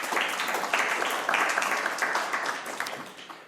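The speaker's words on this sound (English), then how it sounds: "Please clap for Mr. Peña Esclusa." Conference audience applauding a panelist, a steady wash of clapping at moderate level that holds for the whole stretch and gradually thins toward the end.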